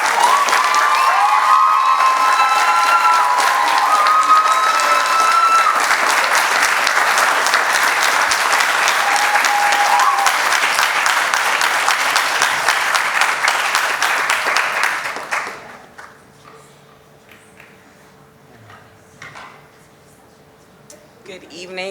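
Loud, sustained applause with some cheering during a clap out at a public school board meeting, running for about fifteen seconds before cutting off to a quiet room with faint voices.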